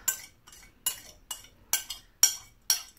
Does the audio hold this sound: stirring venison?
yes